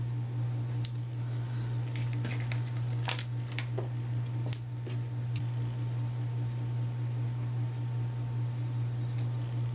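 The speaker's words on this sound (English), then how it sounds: "I'm just going to use my scallop punch and just cut out a scallop" Scallop punch cutting Designer Series paper: a few sharp clicks and crunches scattered over several seconds against a steady low hum, with quiet gaps between.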